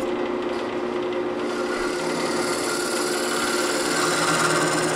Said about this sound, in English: I'm using that negative rake scraper quite a bit to take care of that issue.